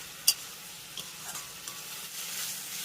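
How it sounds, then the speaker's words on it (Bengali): Pumpkin and bitter gourd curry being stirred in a pan, a soft continuous sizzle under a sharp opening clack and a few light scrapes and taps of the spoon, fairly quiet and close. "ব্যাস এইভাবে আরও 2-1 মিনিট একটু নেড়ে চেড়ে নেব।"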